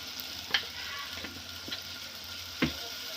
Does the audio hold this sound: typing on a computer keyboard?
no